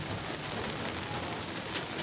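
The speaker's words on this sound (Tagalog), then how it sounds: "Ayan, nauulanan sila." Rain falls steadily on garden plants, a dense, even hiss of drops with no voices.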